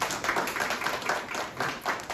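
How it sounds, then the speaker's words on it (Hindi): Audience clapping for a mentor at an event in Mumbai, a moderate burst of hand claps from a crowd, uneven and fairly close. "तो एक बार उनके लिए जोरदार तालियां"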